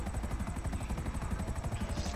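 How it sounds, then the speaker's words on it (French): Helicopter in a video game, a quick rhythmic rotor chop that stays steady and fairly quiet throughout. "j'ai plus conduire l'hélico"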